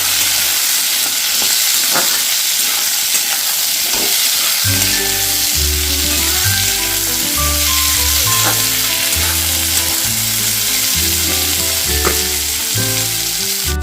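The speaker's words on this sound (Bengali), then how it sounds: "টুকরো করে কেটে রাখা আলুটা দিয়ে দিলাম আলুটা দিয়ে একবার ফ্রাই করে নিতে হবে একটু" Cut potato pieces fry in a pan with a constant, loud sizzling hiss and occasional stirring sounds, and a melodic background tune joins partway through.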